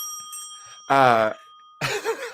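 A bell rings once, loud and clear with a bright ringing tone, followed by a short burst of voice.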